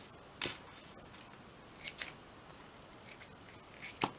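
Scissors snipping paper for a shabby-chic craft journal, a few quiet, separate cuts spaced out over a few seconds, close and soft against a faint room hiss.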